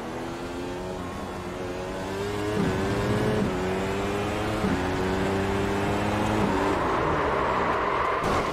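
Simulated race car engine from iRacing, running steadily then rising and dropping through repeated gear shifts, loud and continuous with no talk.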